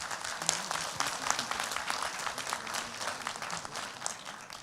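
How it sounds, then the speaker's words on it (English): Steady applause and clapping from an audience welcoming guests at a youth community talk event, continuous and moderately distant throughout. "give all of our guests a round of applause"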